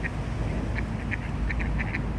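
A royal swan, a tagged bird at a riverside swannery, gives a string of short nasal honking calls in uneven bursts over steady outdoor background noise.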